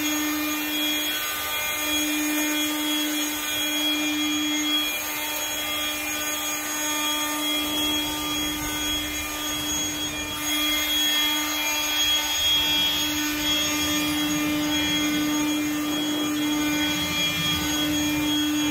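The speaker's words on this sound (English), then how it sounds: "I'm going to take my leaf blower and see if I can just blow everything off the floor" A leaf blower roars steadily, blowing debris off a garage floor, a loud constant whine lasting the whole stretch with no talk.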